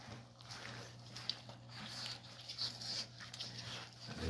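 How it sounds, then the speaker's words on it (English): Rottweiler puppies feeding on raw chicken meat and bones, with faint, steady close chewing and soft whimpering noises over low background hum. "They're devouring the bone, meat down to the bone."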